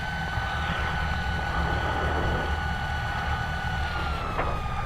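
A Piper PA28-161 light aircraft taxiing, heard from inside the cabin as a steady, fairly quiet engine drone with a constant whining tone and broadband rumble, no speech.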